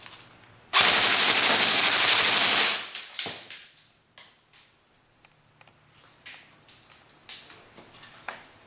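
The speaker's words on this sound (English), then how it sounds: "Give it a shot on full auto." VFC HK416 airsoft electric rifle firing one sustained full-auto burst of about two seconds as a loud, dense buzzing rattle, followed by scattered faint clicks and taps.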